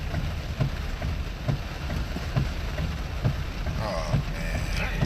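Heavy rain pouring steadily onto a flooded street in Boynton, a dense continuous hiss with scattered nearby splashes and drops, no talk over it.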